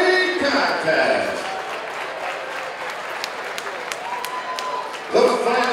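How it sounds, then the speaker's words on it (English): Crowd applause and cheering fill the arena at the close of a hard-fought four-round welterweight boxing bout, a steady dense wash of clapping with an announcer's voice speaking over it near the start and end. "a round of applause for hard fought, welterweight contest"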